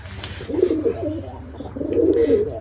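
Giribaj pigeons cooing in two soft, rolling bursts, close by, with a short pause between phrases and no talk.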